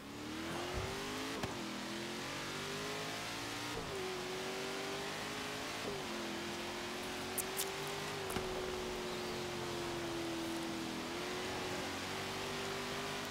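Car engine in the Forza Horizon 3 racing game, a sustained droning hum that holds steady with small pitch dips at gear changes, heard alone at low volume throughout.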